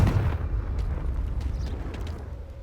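A single heavy explosion from a blasting spell in Hogwarts Legacy, a loud booming hit at the start that fades into a long rumbling tail.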